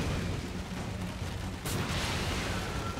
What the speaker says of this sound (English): I'm just fucking shooting the damn rocket launcher